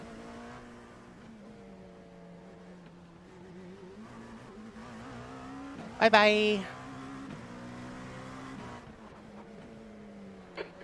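Race car engine drone from the iRacing sim on the streets of Detroit, a steady tonal hum with shifting revs, a brief loud burst near the middle, and a voice speaking briefly over it.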